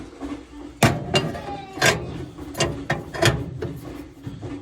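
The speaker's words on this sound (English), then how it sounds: "So now we'll put the plate back on." A metal plate is fitted back onto the auger of a Pelpro PP130 pellet stove, giving a series of sharp metallic clanks and scrapes, about six distinct knocks spaced irregularly, close and fairly loud.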